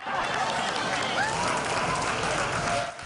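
A crowd cheers and claps steadily for returning veterans at a Honor Flight welcome home ceremony at Greater Rochester International Airport, a dense, even wash of applause and voices that fades slightly at the end.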